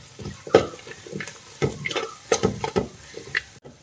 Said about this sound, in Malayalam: ചെറിയ ഉള്ളിയും കൂടി ചേർത്ത് കൊടുക്കാം. എല്ലാം കൂടി നന്നായിട്ടൊന്ന് വഴറ്റി കൊടുക്കാം